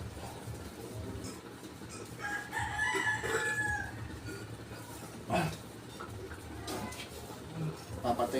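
A rooster crows in a rural yard, one drawn-out call at moderate distance, with clucking and people talking around it.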